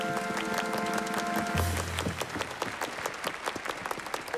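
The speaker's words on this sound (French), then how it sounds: "Veuillez applaudir Monsieur Disparition." Applause from a cartoon circus audience swells after a brief musical chord, then continues as a steady patter of clapping, fairly faint and without talk.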